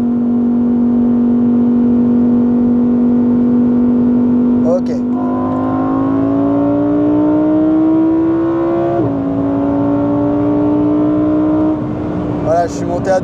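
Engine of a roughly €300,000 Lamborghini supercar pulling hard at speed, a loud steady drone rising gradually in pitch, dipping at a gear change around nine seconds and climbing again, with brief speech over it.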